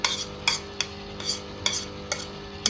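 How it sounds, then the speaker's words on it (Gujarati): A spoon stirs chikoo ice cream mixture with added chikoo puree and pieces, giving soft, regular scraping clinks against the bowl about twice a second, close and fairly quiet, with no talk. "આવી રીતે આમ જ આપણે પ્યુરી એડ કરી દેવાની અને મિક્સ કરીને"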